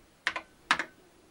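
Two quick pairs of clicky keystrokes on a Memotech MTX 512 vintage computer keyboard, close and crisp, with a short pause between them in a quiet room.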